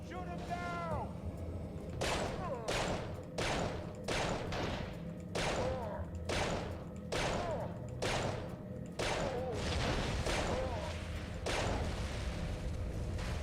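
Gunfire in a Yu-Gi-Oh! PlayStation game, a series of about nine loud sharp shots at irregular intervals, with voices speaking between the bursts.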